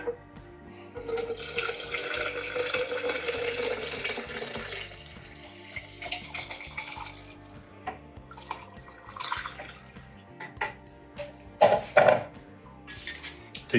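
Water runs and splashes into a pot while an extract Belgian IPA homebrew is being prepared, starting as a steady pour and then breaking into faint drips and clinks.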